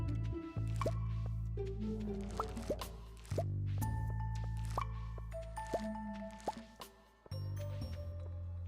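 In the Stardew Valley farming game, a watering can splashes over crops: a string of bright, wet plops and drips, one after another, over gentle background music with no voices.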